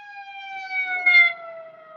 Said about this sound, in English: ain't nobody in the back of that ambulance, y'all. Nobody. They just keeping up a whole bunch of noise for no reason.